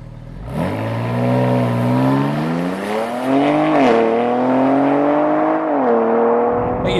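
A 2022 BMW X3 M Competition SUV accelerating hard, the engine note climbing steadily through the revs with a brief dip at a gear change before pulling again, loud and close with no voices.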